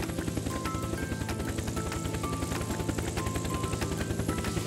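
Toy helicopter in flight indoors, a steady rapid rotor buzz with fast rhythmic pulsing and a continuous whirring motor hum, moderately loud and unbroken.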